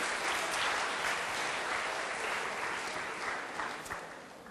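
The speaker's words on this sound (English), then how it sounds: "so another round of applause" An audience claps in a sustained round of applause, a dense steady patter of many hands that tapers slightly toward the end.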